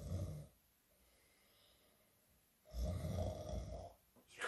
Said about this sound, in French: Dès que le petit Poucet entendit l'ogre ronfler